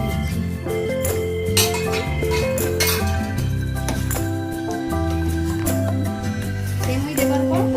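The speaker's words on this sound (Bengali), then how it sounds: "দুধ আমার ফুটে গেছে, এরপর আমি সেমই দিয়ে দিচ্ছি।" Vermicelli going into boiling milk in a saucepan for semiya payasam, heard as metal clinks, scrapes and stirring against the pan, with a steady musical bed running underneath.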